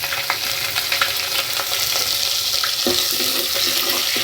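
Cumin seeds and chopped ginger crackle in hot oil for a dahi aloo curry, making a loud continuous sizzle with quick popping spatters and light stirring scrapes.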